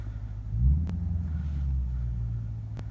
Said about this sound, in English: I'm gonna turn the AC down so you can actually hear the car.